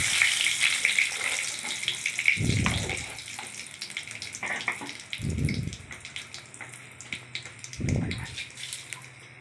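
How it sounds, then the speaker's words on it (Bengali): Whole spices and dried chilli frying in hot oil for a Bengali mustard vegetable dish, a steady close sizzle with three short low bursts of stirring or pan movement, no talking. "একটু মশলাটা একটু ভেজে নিলাম"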